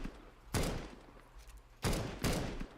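Counter-Strike 2 gunfire fired through metal walls sounds as three loud, sharp shots, one alone and then a close pair about a second later, over a quiet hum.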